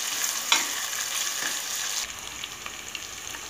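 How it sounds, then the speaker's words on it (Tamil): Onions sautéed in a pan for vegetable seeraga samba biryani give a constant crackling sizzle, with a louder scrape of stirring near the start and soft spatters as the frying settles. Close, with no speech. "வெங்காயம் நல்லா செவந்து வர வரைக்கும் வதக்குங்க."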